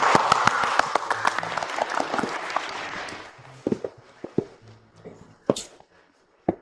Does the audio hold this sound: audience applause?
yes